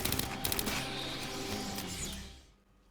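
Rapid automatic pistol fire from an M10 Auto Pistol in the shooter game Aliens: Fireteam Elite, dense bursts with mechanical clatter that fade out near the end.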